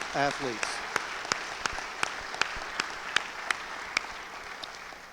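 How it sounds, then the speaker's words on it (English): A small audience at a university athletics hall of fame induction ceremony applauds coaches and staff with sparse, scattered claps spaced apart, beginning right after a brief bit of talk. "let's give a big round of applause for all our coaches and staff in athletics"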